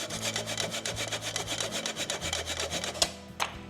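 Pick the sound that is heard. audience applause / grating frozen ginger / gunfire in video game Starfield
grating frozen ginger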